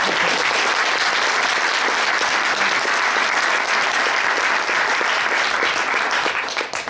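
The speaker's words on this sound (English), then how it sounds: "So big round of applause for them, please." A concert audience gives a student band a long, loud, sustained ovation of dense clapping that holds steady for several seconds before tapering off at the very end.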